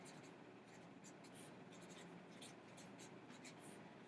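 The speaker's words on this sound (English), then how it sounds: "I'm going to jot down all of the key terms that I highlighted here." A pen jotting notes on paper for a word problem: soft, scratchy strokes and short scribbles coming in small bursts, very quiet and close over a steady background hiss.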